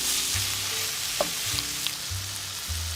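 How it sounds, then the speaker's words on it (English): Sliced sausages fry over medium heat in a pan, a steady close sizzle with a few spatula taps and scrapes, no talking. "Put the sliced sausages into the pan. Cook for about 5 minutes over medium heat."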